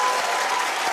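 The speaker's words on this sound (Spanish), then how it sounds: "Un aplauso para los conductores de Colombia." A TV studio audience claps in a dense, steady burst of applause, loud and close throughout the short stretch with no talk over it.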